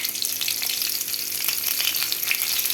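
A green chili fries in hot oil for a dal and greens stir-fry, producing a steady close crackling sizzle with small popping bursts throughout.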